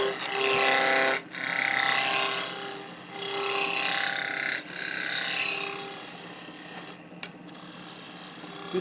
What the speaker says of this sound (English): fire up the lathe and we'll have a little go at this. So just like before, it's going to start off cutting the shoulder. Roughing gouge comes in.